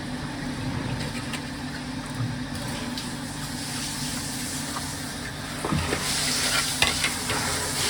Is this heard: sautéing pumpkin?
yes